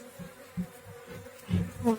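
Bees buzz up close in short droning bursts, rising and fading as they move around, with no talking.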